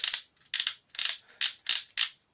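Six sharp plastic clicks in a fairly even rhythm, close and crisp, each a short ratcheting snap from the shark joint of a Deluxe Wild Force Megazord toy, separated by brief quiet gaps.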